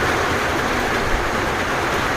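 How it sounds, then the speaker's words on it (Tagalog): Heavy rain pours down steadily, a loud, dense hiss and roar that stays constant throughout, close by and with no talking. "Grabe ang ulan."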